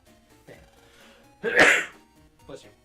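A single sharp sneeze bursts out mid-clip, close and fairly loud, with faint voices and gameplay sounds murmuring quietly around it.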